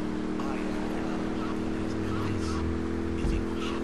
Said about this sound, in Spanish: Vamos rapidísimo con el Infernus.